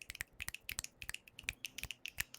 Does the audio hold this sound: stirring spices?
no